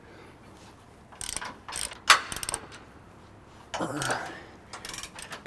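A ratchet loosening front bumper bolts on a 2014-or-later Toyota Tundra during an Ironman 4x4 Raid bumper install, giving a few short bursts of clicking and metallic clatter close by, with a brief spoken word.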